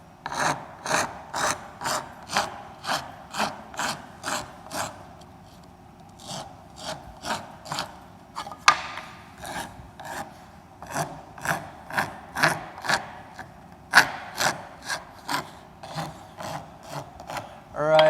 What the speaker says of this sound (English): so this particular wood rasp has a little bit smaller teeth on it